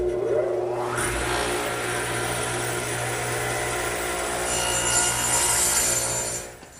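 Radial arm saw cutting a wooden garden bench armrest: the motor spins up with a rising whine, the blade grinds steadily through the wood for several seconds, then the sound drops away as the cut ends.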